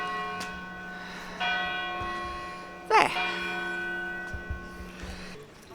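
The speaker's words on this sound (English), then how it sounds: "that is telling us it is 12 o'clock and it is the church bells" Church bells in Benicarlo toll twelve o'clock, steady ringing tones sounding close ahead. A voice briefly speaks over them near the middle.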